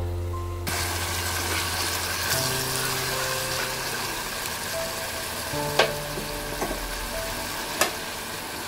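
Sliced onions fry in a pan for an okra curry, giving a steady, close sizzle that runs throughout, broken by a few sharp clinks of a utensil against the pan.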